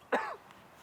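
A man gives a single short, sharp cough on a disc golf course, close and clear against a quiet background.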